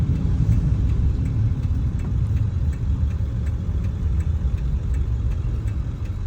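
A 2000 Ford F250 with the 7.3 Powerstroke diesel runs steadily with a deep, even rumble close by, loud and continuous with no talk.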